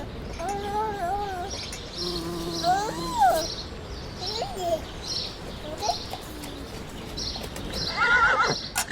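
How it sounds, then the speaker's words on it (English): A horse whinnies several times in high, wavering neighs while hooves clip-clop underneath, close and clear, with a brief insect-like buzz in the background and no one speaking. "That's the horse."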